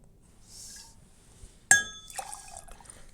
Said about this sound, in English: right into my vessel here. And it's 3/4 of an ounce of dry vermouth